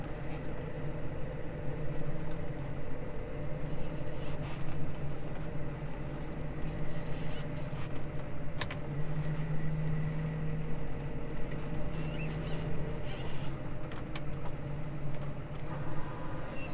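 A Case Maxxum 150 tractor engine runs with a steady, unbroken low drone and a faint higher whine over it. The sound is close and constant throughout, with no talking.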